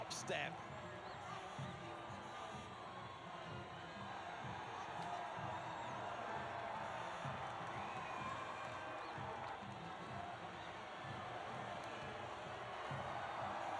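A crowd cheers and roars at the podium celebration in the F1 25 racing video game, a steady, dense wash of cheering and whoops sustained throughout.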